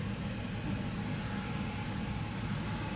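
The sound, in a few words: KLM Boeing 737-800 airliner moving at Schiphol airport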